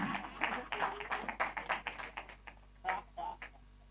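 A crowd claps in a steady run of hand claps after being urged to applaud, moderately close, thinning out with a few scattered claps toward the end.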